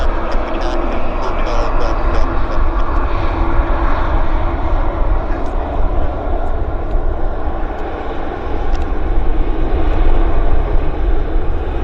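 Airplane at Vancouver Airport YVR, a loud continuous jet engine roar close by that holds steady throughout, with faint voices mixed underneath.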